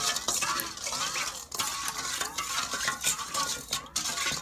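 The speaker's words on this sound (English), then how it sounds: "I'm going to mix this up until I don't feel the grit at the bottom" Utensil stirring and scraping a brown sugar marinade for pork chops in a bowl, continuous clinking strokes with a few sharper knocks, close and moderately loud.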